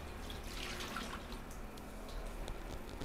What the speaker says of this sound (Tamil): போட்டுட்டு தண்ணி ஊற்றிக்கோங்க.